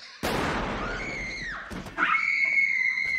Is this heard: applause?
no